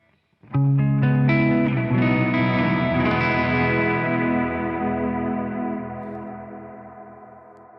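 Electric guitar through a worship pedalboard controlled by an MC6, one big strummed chord swelling with chorus, echo and heavy reverb, ringing out and slowly fading.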